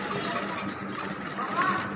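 A sewing machine runs in a rapid, steady stitching patter while a simple top is sewn, fairly close, with a voice speaking over it.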